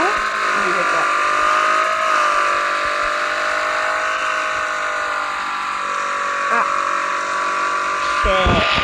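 Car drifting in the video game P.drift 2.0, its engine holding a steady high whine with tonal revving throughout, briefly dropping near the end, with a voice talking over it.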